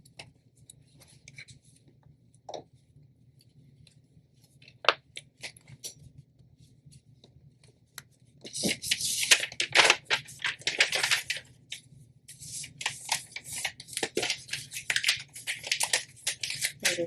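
A shirt being folded accordion-style for tie-dye sublimation; quiet at first with a few soft taps, then bursts of close, crisp fabric rustling and crinkling in uneven patches.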